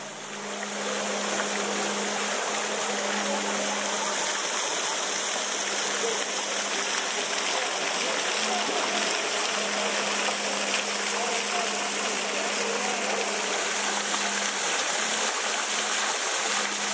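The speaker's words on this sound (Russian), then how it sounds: "В центре фонтана фигура Дианы-охотницы, а по бокам расположились сирены и тритоны." Water from the Fountain of Diana in Syracuse, Sicily, splashing and rushing steadily, a continuous dense hiss that stays loud and even throughout, with a faint steady hum beneath.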